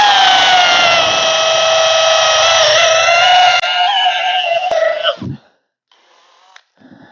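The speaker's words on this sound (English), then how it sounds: "I picked a 10mm, and I'm going to put that in my drill." A power drill fitted with a blunt, chipped 10mm bit whines steadily at high speed for about five seconds, then spins down and stops, followed by a few faint clicks.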